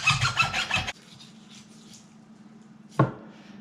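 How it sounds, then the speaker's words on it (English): A hacksaw cuts through a venison leg bone, a short run of close, gritty back-and-forth rasping strokes, followed by quiet and a single sharp knock. "I'm using this hacksaw, and we're gonna cut the bone right where we made our initial"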